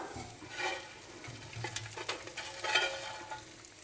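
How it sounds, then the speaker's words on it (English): Quiet sizzling of fat in a pan crackles softly and steadily, with a few brief scraping stirs; faint and close. "Once it starts to sizzle like this,"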